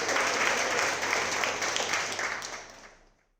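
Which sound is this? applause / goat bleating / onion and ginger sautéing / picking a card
applause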